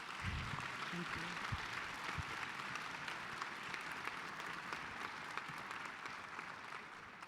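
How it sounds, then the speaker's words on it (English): At a charity changemakers event on stillbirth awareness, an audience gives steady applause, many hands clapping in a continuous, fairly distant wash with a few low thumps near the start. "How about a round of applause for the Santillians?"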